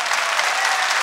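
A church congregation applauds loudly, with dense, steady clapping filling the whole short moment and no voices standing out.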